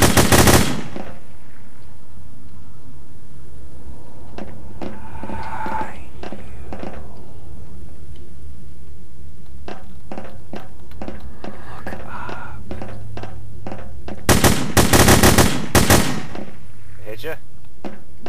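Gunfire in The Hidden, a Half-Life 2 mod: a loud automatic burst opens, scattered sharp single shots and clicks follow, and then another rapid, close burst of fire comes.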